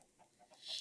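Chickens in a survival video game give a few soft, quick clucks in under a second, faint and close, ending with a slightly louder squawk.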